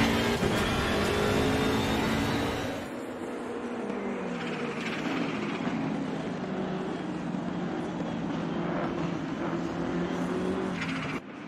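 A BMW race car engine howls at full throttle in the Assetto Corsa Competizione racing video game, a continuous loud drone that drops slightly and then holds steady while the car laps the track.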